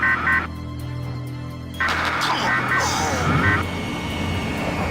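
A transport plane in flight, its steady engine drone and harmonic hum filling the cabin throughout, with tonal alert sounds and a sharp shift in pitch partway as the aircraft Dutch rolls.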